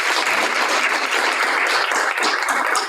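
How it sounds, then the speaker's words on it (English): An audience at a civic engagement event on the Central Valley farmworker movement gives a round of applause, loud and steady, many hands clapping close with no voices. "please give a quick hand applause to Nels"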